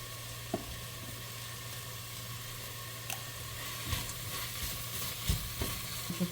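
Mushrooms, tomato and garlic fry in coconut oil in a pan, giving a steady, even sizzling hiss throughout with a few faint clicks and stirs, close and continuous with no voices.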